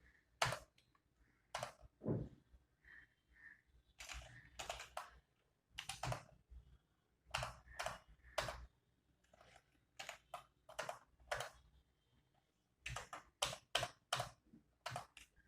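Computer keyboard typing during data entry in PharmaCare pharmacy billing software, heard as quiet bursts of clicking keystrokes with short pauses between them, close by and with no talking.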